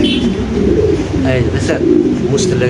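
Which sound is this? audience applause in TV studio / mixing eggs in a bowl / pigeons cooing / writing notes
pigeons cooing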